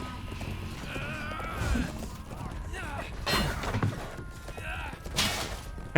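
A horse gallops in the medieval combat game Chivalry 2, rhythmic hoofbeats with thuds and a whinny, mixed with clashing game noises and someone talking over it.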